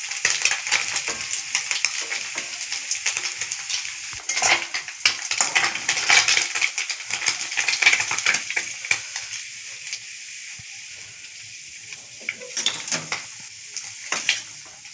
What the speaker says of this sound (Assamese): মাছখিনি আধা ভাজা হৈ আছে। এতিয়া ভালকৈ উল্টাই দিছোঁ।